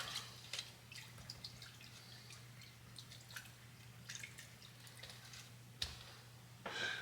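A paint brush rinsed in water gives sparse, faint drips and small splashes, irregular and quiet, over a steady low electrical hum.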